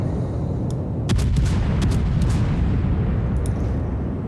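Naval gun salvos from a warship in World of Warships, a series of sharp booming reports with rumbling tails over constant low engine and sea rumble.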